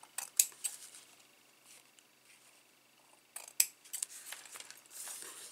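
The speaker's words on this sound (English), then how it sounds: "So I'm going to snip the ends." Scissors make quick snips through ribbon ends on a handmade card. There are a few sharp close cuts near the start, a pause, then another cluster of snips and light handling rustle, all faint and with no talk.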